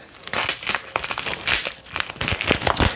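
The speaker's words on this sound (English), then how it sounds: "So I'm gonna rip open this now" Lego packaging for a BD-72 set is ripped open up close, a loud continuous crinkling and tearing of plastic and paper for about three seconds with no voice over it.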